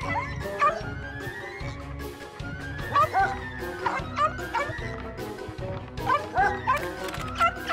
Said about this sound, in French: Quand on est à l'intérieur, on n'aboie pas, ou alors plus doucement